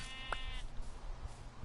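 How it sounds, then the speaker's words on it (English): A single sheep from Minecraft gives one short, quiet bleat over a low steady background, with no talking. "More sheep, more sheep, more sheep!"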